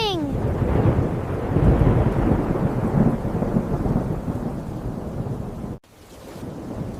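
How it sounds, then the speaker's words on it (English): Cartoon rain pours and thunder rumbles in a long, loud, dense roll after a brief rising tone, then cuts off abruptly and the rain continues more softly. "Yay, rain is coming."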